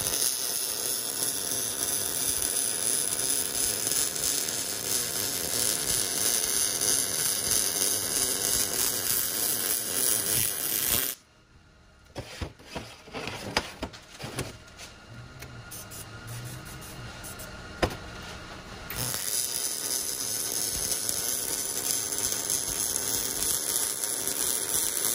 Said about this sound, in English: we can probably throw another tack weld there and then final weld it